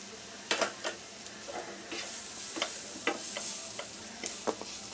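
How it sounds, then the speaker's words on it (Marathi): Carrots stir-frying with onion in a pan, a quiet continuous sizzle broken by several clinking, scraping stirs of a spatula, close up and without talk. "गाजरला अर्धा मिनिट झाला आहे भाजून घेतल्यावर।"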